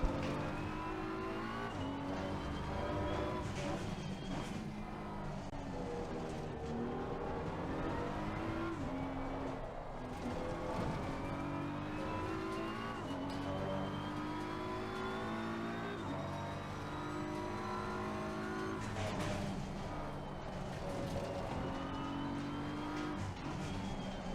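A BMW M4 GT3 race car in Assetto Corsa Competizione at the Nürburgring, with other cars such as a McLaren and a Porsche nearby, gives a sustained engine roar that rises and falls through gear changes, loud and continuous.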